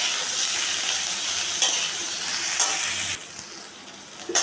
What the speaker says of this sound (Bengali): সেই সাথে যে চিংড়ি মাছটা নিয়েছিলাম সেই চিংড়ি মাছটাও আমি এটার মধ্যে দিয়ে একটু ভেজে নেব।